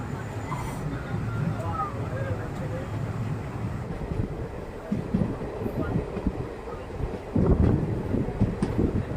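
A Rameswaram passenger train turns off onto the railway line toward Rameswaram, its steady low rumble and wheel noise continuous throughout, with wind buffeting the microphone and a heavier clattering burst near the end.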